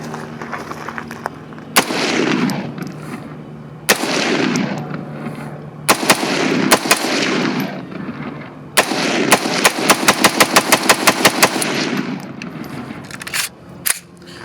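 A KS-47 pistol fires Red Army ammunition outdoors, loud sharp shots with echoing tails, first as spaced single rounds and then as a fast string of repeated shots.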